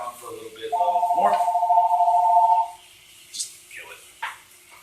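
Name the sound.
telephone ringing in the room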